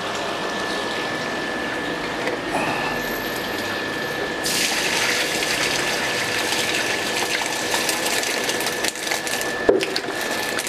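Water poured out of a bucket holding red tilapia fry, a steady splashing gush that grows louder and brighter partway through, close and continuous with no talking.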